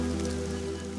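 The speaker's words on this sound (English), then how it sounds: "The rain is a welcome relief" Rain falls steadily in the Kalahari desert, a continuous close hiss of drops over a low steady hum, with no voices.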